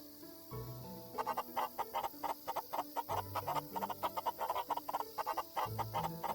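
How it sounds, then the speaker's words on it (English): Chickens in the farming video game Forest of Drizzling Rain cluck in a busy, rowdy run of short, rapid calls that repeat steadily over a low background, fairly faint and with no voices. "Our chickens are pretty rowdy, so collecting eggs can be tough."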